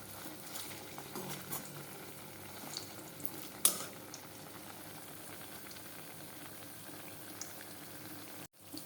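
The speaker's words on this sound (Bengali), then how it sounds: "একবার দিয়ে দিলাম, ভাজা হচ্ছে, ভাজা" Food fries in a pan on a home kitchen stove, a faint, steady sizzle that runs throughout, with a brief utensil clink partway through and no talking.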